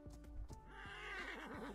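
A horse in the survival game ATLAS lets out a loud, close whinny that rises and wavers with shaking pitch, set against steady ambient game noise, with no talking.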